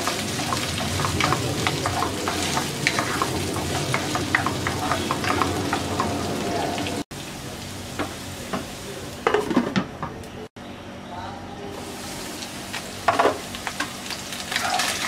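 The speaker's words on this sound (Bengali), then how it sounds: "2 মিনিট পর আলুটাকে নাড়াচাড়া করে আবারও 2 মিনিটের জন্য ঢাকনা দিয়ে দিচ্ছি।" Potatoes frying in a pan for a spinach curry give a steady sizzle broken by clinks and scrapes of a utensil stirring against the metal, with short pauses where the sound drops away.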